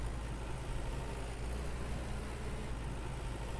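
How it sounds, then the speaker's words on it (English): A tractor engine in Farmer's Dynasty runs as a steady, dense mechanical drone, loud and unchanging throughout with no voices. "Park our wife's tractor away."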